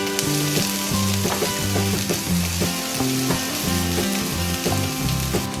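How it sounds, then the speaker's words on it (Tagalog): Onion sizzles steadily in hot oil in a pan, a constant crackling fry heard under background music throughout. "Using the same pan and oil, saute the onion."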